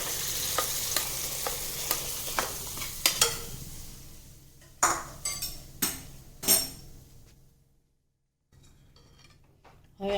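Hot tempering goes into boiled lentils for instant idli sambhar, sending up a loud sizzle, then a run of spoon knocks and scrapes against the pot that tapers into near silence before a last clatter.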